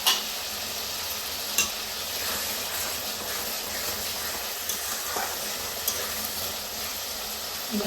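Tomato and spices frying in a pan for chicken curry, a steady close sizzle and hiss with occasional scrapes of stirring, continuous throughout and without talk.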